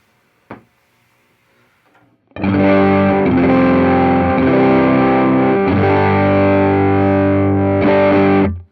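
Electric guitar driven through an Ibanez TS9DX Turbo Tube Screamer in its Plus mode, a thick, loud, overdriven strum ringing out alone after a brief pick tap.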